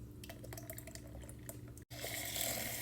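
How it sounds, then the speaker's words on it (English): Milk and heavy cream poured into a cup for a maple cinnamon latte, a steady liquid trickle with faint drips, close by, briefly cut off before a brighter gush of pouring resumes. "Going in with about 1 cup of milk, about 2 ounces of heavy cream"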